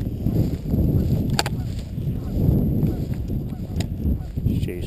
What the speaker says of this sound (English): She's chasing some ducks there.